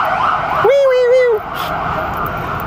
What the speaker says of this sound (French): la petite ambulance, il démarre.